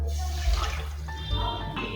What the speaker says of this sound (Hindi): 2 कप पानी ऐड करेंगे पैन के अंदर।